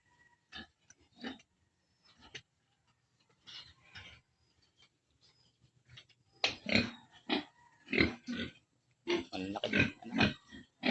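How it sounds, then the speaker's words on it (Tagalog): A sow grunts in short, irregular bursts while giving birth, sparse at first and then more frequent and louder, close by in an otherwise quiet space. "pakikita ko po sa inyo yung aking nanganganak na baboy"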